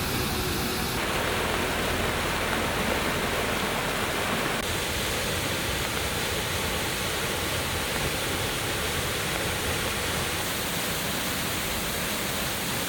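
Roaring Matsunoyama waterfall heard up close on a day of strong wind and heavy rain, a loud, unbroken broadband rush of falling water with gusts, steady and dense throughout.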